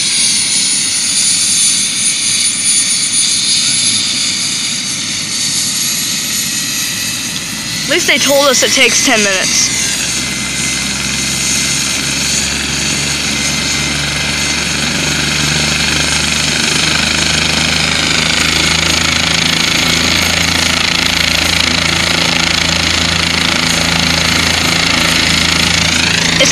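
Life Flight medical helicopter sitting before takeoff, its turbine whining loud and close with a steady rotor drone that builds throughout, while a person talks nearby.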